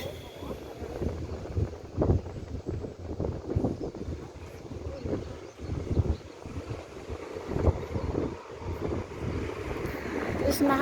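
Gusty wind buffeting the microphone in low, uneven rumbles, rising and falling under people talking.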